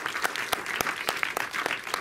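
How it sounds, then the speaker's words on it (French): Dense, steady applause fills a cinema auditorium after a film screening, many hands clapping at once for the present cinematographer, with sharper individual claps standing out now and then against the continuous wash. "C'est pas mal, ça s'applaudit même."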